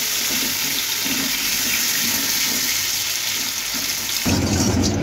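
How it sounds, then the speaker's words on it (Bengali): Potatoes fry together in hot oil, giving a loud, continuous hissing sizzle that fills the space and grows heavier and deeper toward the end. "এবার ওই তেলে আলু ভেজে নেব। আলুগুলি একসঙ্গে ভেজে নিচ্ছি।"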